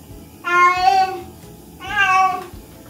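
A cat yowls twice during a bath, two long, loud, drawn-out meows about a second each, separated by a brief quiet pause, close to the listener.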